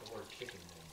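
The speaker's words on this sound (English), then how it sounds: "All right, let me wash my hands." Running tap water splashes steadily over hands being washed at a kitchen sink, heard close for a brief moment with a voice faintly under it.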